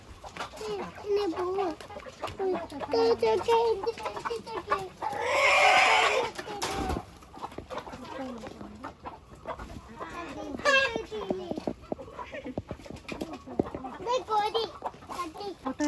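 Chickens cluck repeatedly in a backyard coop during feeding, their calls scattered throughout and mixed with people talking nearby and a brief loud rustle.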